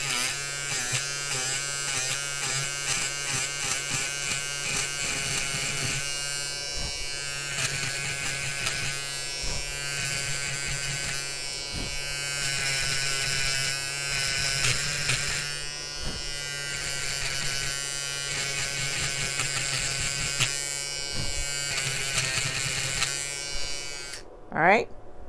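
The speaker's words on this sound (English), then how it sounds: "I love this Peggy Stitch Eraser." Peggy Stitch Eraser electric stitch remover buzzing steadily while removing applique stitching from a towel, a close, continuous motorized drone that runs almost unbroken and cuts off abruptly near the end.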